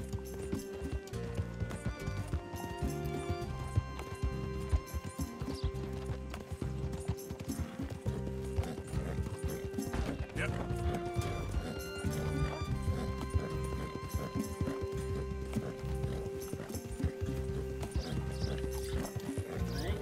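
A horse gallops steadily in the open-world western game Red Dead Redemption 2, with rapid rhythmic hoofbeats running throughout under sustained tonal game music.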